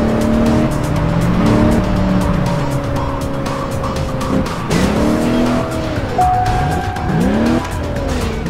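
A car in the racing video game Alarm für Cobra 11 – Das Syndikat skids with drawn-out tire squeals that rise and bend over a constant engine roar, several slides in a row, loud and close.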